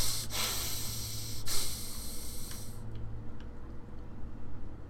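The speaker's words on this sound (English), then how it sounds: "Is that me, like, breathing really hard?" Heavy breathing in the horror game Bendy and the Ink Machine, loud ragged breaths and snorts over a hissing drone that drops away near the end.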